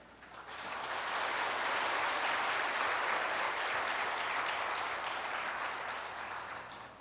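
A church congregation at a Korean Sunday all-generations worship service applauds warmly, the clapping swelling in, holding steady for several seconds, then gradually thinning out, with no talking over it.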